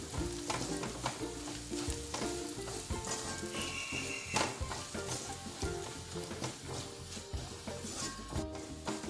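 Onions and two dried red chillies fry in oil for jackfruit puzhukku, a steady loud sizzle with stirring scrapes and clinks throughout, no voices.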